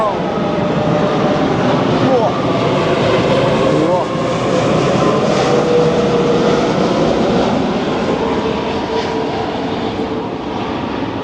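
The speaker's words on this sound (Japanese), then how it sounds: "飛行機がこの距離感なのがやっぱり春日原らしいよね。" A loud airplane roars low overhead while turning to land near Kasugabaru, Japan, for the whole stretch, a broad rumbling engine drone, while people talk beneath it.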